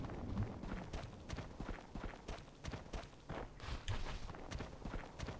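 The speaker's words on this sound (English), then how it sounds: "Thought I could hear someone else's footsteps there." Footsteps in the video game Conflict: Desert Storm crunch in a steady walking rhythm across desert ground, loud and close, with other game sounds faintly underneath.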